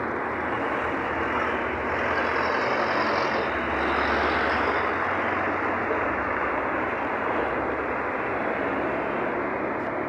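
Steady roar of highway traffic near SM Baliwag, a broad continuous rumble of passing trucks and cars close by, with no talking over it.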